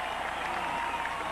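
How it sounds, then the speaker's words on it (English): A large crowd of cadets cheers and applauds at a US Air Force Academy graduation, a dense, steady roar of clapping and voices heard from a distance. "You can hear the wing cheering for him."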